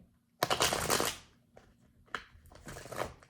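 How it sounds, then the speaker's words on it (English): Tarot cards are riffled and bridged in a loud, crisp shuffle, then a second, shorter flurry of card flicks after a brief pause, no talking. "Let's do one shuffle"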